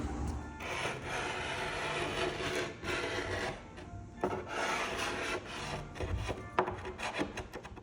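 Rough, rasping scraping strokes rub across an old wooden door panel in a steady, uneven rhythm, close and continuous with sharper scrapes near the end.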